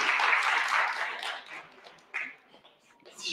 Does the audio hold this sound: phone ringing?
no